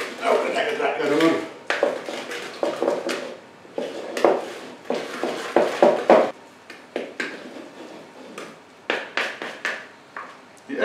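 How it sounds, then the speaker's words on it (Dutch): Dough mixture with eggs being stirred in a bowl, a series of clinking, scraping utensil knocks against the bowl in uneven bursts, close by, with some talking. "Nou, kan ek het lekker roer."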